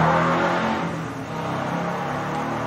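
A motorcycle roars past close by on a busy street, its loud engine rising and fading slightly within a couple of seconds, no talking.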